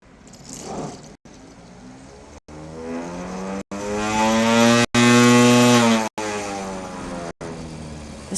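A high-powered motor spins a record clamped in a vice, rising to a loud, steady whine that climbs and then falls in pitch, broken by brief sharp cutouts at regular intervals.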